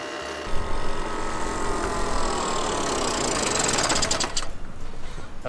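A Solex Micron moped's tiny one-horsepower engine running under way, a rapid, buzzy, sewing-machine-like rattle that holds steady and close with wind noise, no voices heard.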